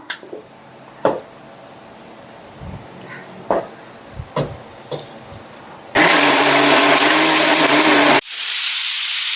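A mixer grinder grinds tamarind chutney. A few light clicks and knocks come first, then the motor bursts into a loud, continuous whirring roar that briefly shifts pitch before running on steadily close by.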